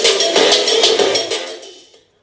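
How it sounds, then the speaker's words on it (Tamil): Music plays from a Ten plus TP 230 Bluetooth speaker, a dense, full-band song heard alone for about two seconds before it cuts off into silence. "ஓகே, இப்போது சாங் ப்ளே பண்ணியாச்சு."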